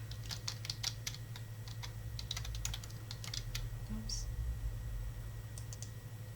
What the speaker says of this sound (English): so I typed quarantine badge work